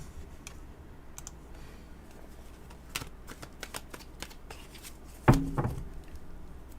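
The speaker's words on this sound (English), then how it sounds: "All right, let me shuffle this." A tarot card deck being shuffled by hand, soft papery riffles and taps at a quiet level, ending in a louder burst of card slaps near the end.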